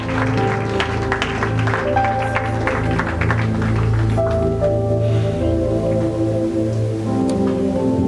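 A church congregation applauds during a Sunday worship service, a steady wash of clapping running under sustained organ-like music and a voice.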